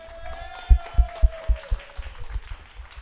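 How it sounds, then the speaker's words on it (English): A round of applause breaks out at a big fantasy football fan meetup in Sydney, with a run of sharp, distinct claps that thins and fades into scattered hand claps while a soft tone drifts underneath. "If that doesn't deserve a round of applause, then I don't know what does"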